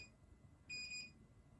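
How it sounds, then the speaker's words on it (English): A faint electronic beep from an MKBOO automatic hair curler's countdown, two quick high tones close together in an otherwise quiet room. "That beeping sound is just counting down the seconds."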